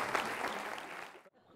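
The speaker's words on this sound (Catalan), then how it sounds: "un aplaudiment per tots dos" Audience applause at a live show, a brief burst of clapping that fades out after about a second, with faint voices underneath.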